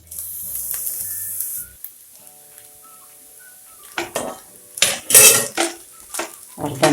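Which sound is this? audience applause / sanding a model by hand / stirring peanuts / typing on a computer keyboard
stirring peanuts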